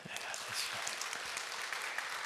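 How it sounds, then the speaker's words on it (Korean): A church congregation at a Sunday service claps to welcome visitors, a soft, steady wash of many hands heard from some distance, with faint voices underneath. "박수로"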